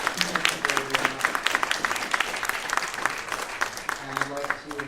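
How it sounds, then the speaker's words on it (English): Audience at a human trafficking symposium applauding the panel's guest speakers: sustained crowd clapping with a speaking voice running over it. "Could I have a round of applause for our guest speakers?"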